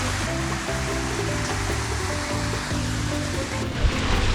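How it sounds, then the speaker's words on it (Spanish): A waterfall in the Huasteca Potosina, Mexico, roars as a dense, steady rush of falling water, loud and close, with no talk. "Aquí hay otra cascada"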